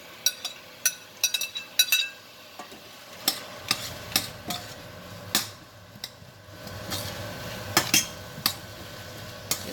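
Onion, garlic and green and red peppers stirred in a pan of sauce on a stove: sharp irregular clacks of a utensil against the pan over a soft sizzle, close and clear, with no voices.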